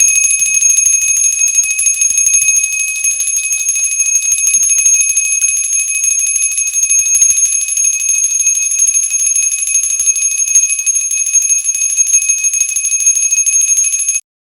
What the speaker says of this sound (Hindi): इस तरह से घंटी बजाकर भी जो है ना आप आरती कर सकते हैं।